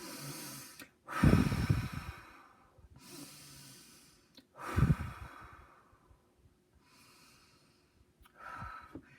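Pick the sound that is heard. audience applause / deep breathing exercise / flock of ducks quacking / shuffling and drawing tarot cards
deep breathing exercise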